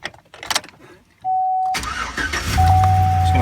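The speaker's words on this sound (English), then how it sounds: "I'm gonna go ahead and start the car." A 2003 GMC Sierra pickup starts up close by: after faint rustling and a brief warning tone, the starter cranks, the engine catches and settles into a loud steady idle with the tone chiming again.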